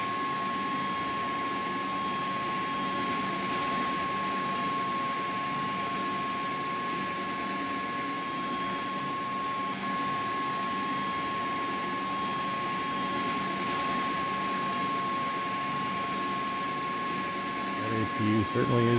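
A steady, loud mechanical whine and roar of a CH-47D Chinook helicopter's auxiliary power unit in X-Plane 11, continuous and unchanging, with a faint thump near the end.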